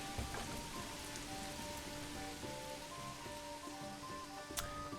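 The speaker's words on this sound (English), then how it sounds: "here comes the rain" Rain falls steadily and softly on surfaces in the Manor Lords medieval village game, a faint continuous patter with light tonal game sounds underneath.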